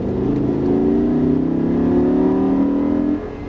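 Lamborghini Gallardo LP550-2 Valentino Balboni accelerating on the Haute Saintonge race circuit, a loud close engine note climbing steadily in pitch for about three seconds before easing off.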